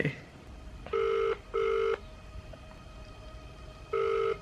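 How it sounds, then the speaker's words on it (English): Telephone ringing on a call placed to a friend late at night: three loud, steady electronic ring bursts, two close together then a pause before the third, over a quiet room. "let's call good old Jimmy B."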